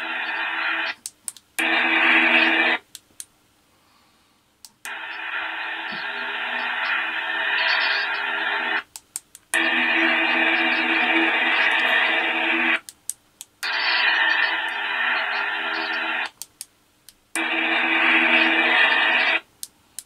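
Music or a test tone played in alternating bursts through small 28mm and 24mm bass speakers, several loud segments of a few seconds each separated by short silences, with faint clicks between them.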